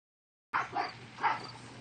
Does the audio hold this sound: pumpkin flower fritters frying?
no